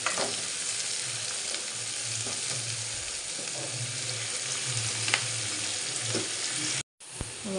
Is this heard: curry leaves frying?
yes